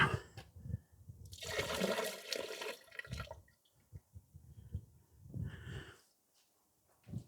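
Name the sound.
dead yeast sediment tipped out of elderflower wine demijohn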